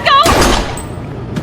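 A single gunshot in the Life Is Strange video game, one loud sharp blast that fades quickly, followed by a brief quieter tail.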